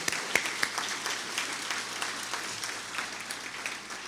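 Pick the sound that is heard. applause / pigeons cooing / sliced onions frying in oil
applause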